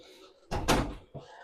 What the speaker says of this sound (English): Close the door all the way, please.